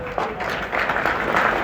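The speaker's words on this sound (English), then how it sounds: "Those of you clapping right now, you're not alone." Audience clapping at a Republican social gathering, steady dense applause filling the space for the whole stretch, fairly loud and close.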